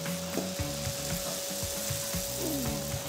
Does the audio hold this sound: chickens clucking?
no